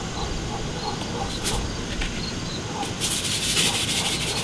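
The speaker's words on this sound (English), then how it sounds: "Rub the oil in real nice." Hands rubbing olive oil and salt into squash before grilling, soft wet rubbing and scraping strokes close up, fairly quiet with brief brighter swishes.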